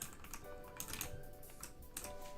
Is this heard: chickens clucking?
no